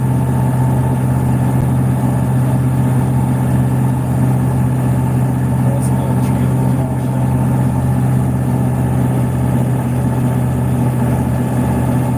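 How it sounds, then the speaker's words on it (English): A tractor engine idles steadily on a farm, a loud, constant low rumble that holds unchanged from start to finish with no voices over it. "Stop the tractor."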